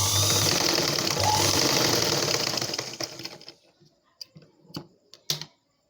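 A sewing machine runs fast and steadily as it stitches back and forth on a blouse, then stops. A few separate clicks and mechanical knocks follow as the machine is handled.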